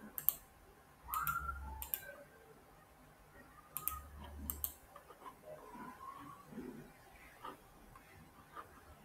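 A computer mouse clicks while someone works in 3D Max software: a handful of sharp, close single clicks spaced a second or two apart over a faint background hum.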